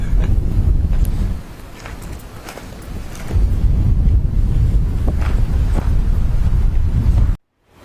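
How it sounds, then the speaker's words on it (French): Heavy wind buffeting the microphone outdoors at Cap Sicié, a loud low rumble with gusts, easing briefly before surging again, then cutting off abruptly near the end. "Il y a du vent, j'espère que le son est pas trop pourri."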